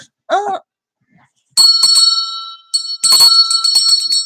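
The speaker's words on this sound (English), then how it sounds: "Oh, I ring my bell for you." A hand bell is rung several times, giving a single bright ring followed by longer clusters of sharp metallic jangling that sustain and overlap, close and loud with brief silences between.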